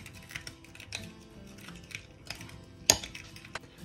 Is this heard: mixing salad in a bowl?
yes